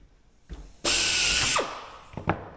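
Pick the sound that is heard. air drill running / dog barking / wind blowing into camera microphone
air drill running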